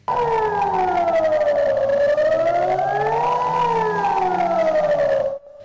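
A civil defense siren wails loudly in Venice, one long rising and falling tone that holds for over five seconds before cutting off abruptly.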